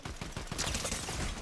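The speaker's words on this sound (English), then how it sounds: "I was trying to shoot Evil before he placed all of his traps" A short, rapid burst of automatic gunfire in a Fortnite body cam custom map, with closely spaced shots sounding loud and near.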